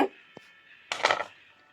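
A knife slices through a toasted vegetable sandwich with melted cheese, giving one faint early tap and then a short, close crunchy cutting burst. No one speaks.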